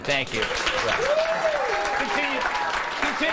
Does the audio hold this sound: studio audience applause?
yes